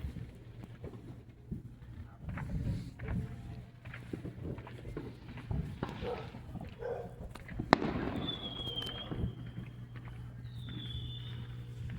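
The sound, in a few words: fireworks exploding on the 4th of July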